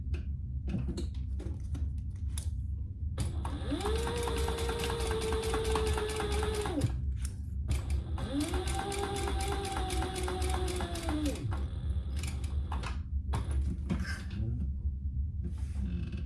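Domestic sewing machine top stitching a fabric wristlet at an eighth-inch seam, running in two steady whirring bursts of several seconds each with brief pauses and small handling clicks between.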